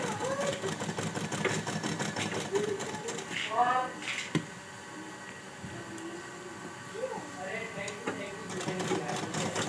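A sewing machine stitches along the neckline of a small baby girl's dress, its steady mechanical whir and rapid needle chatter running continuously under a voice talking throughout.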